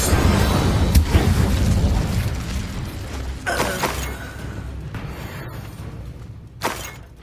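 The Incendio fire spell cast in Hogwarts Legacy, a loud whooshing, crackling burst at the start that fades, followed by a few sharper impact bursts later on, with no talking.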